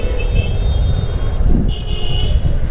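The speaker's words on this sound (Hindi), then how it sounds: "इतना ट्रैफिक जाम तो होना नहीं चाहिए।" Dense road traffic in a jam while passing through Sadar Bazaar in Multan, with a steady roar of engines and a few high horn toots cutting through, close and continuous.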